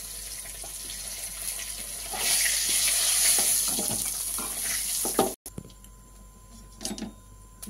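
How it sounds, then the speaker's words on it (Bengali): Garlic paste hits hot oil in a wok with a loud, bright sizzle that swells and holds for several seconds, then cuts off abruptly to a quieter crackle with a faint clink. "আমার তেল গরম হয়ে গেছে, এবার আমি দিয়ে দিচ্ছি রসুন বাটাটা।"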